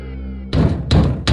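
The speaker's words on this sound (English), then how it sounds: "The police is trying to break down the door of the warehouse." Police break down a warehouse door: a steady droning tone gives way to three heavy, loud blows landing about every third of a second, each a sharp broadband bang with a short ringing tail.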